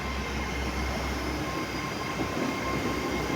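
Great Western Railway train departing Bristol Temple Meads for Cardiff Central, a steady low rumble of rolling stock with faint wheel squeal, close and continuous with no talk.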